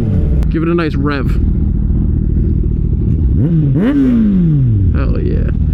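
A Kawasaki ZX6R motorcycle engine revs up in rising, falling sweeps, with a sharp rev near the start and a longer swelling rev midway, loud and close, while people talk over it.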